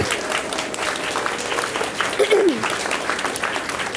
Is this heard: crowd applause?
yes